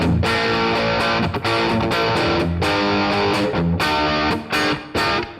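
A distorted electric guitar plays loud chords and riffs through a NUX amp with reverb added, close and continuous with brief gaps between strums near the end.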